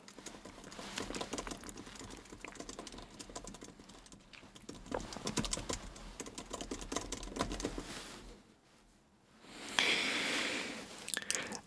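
Computer keyboard typing with a steady run of soft, rapid key clicks close by, dipping into a brief pause before resuming, set in a quiet whispered medical roleplay.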